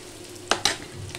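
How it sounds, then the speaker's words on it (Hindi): Spices for chana dal are roasted and stirred in a hot pan, two quick scraping spoon strokes over a steady low sizzle, close and moderately loud, with no voices. "इन मसालों को अच्छे से अब हम भून लेंगे, इसमें मिक्स कर देते हैं।"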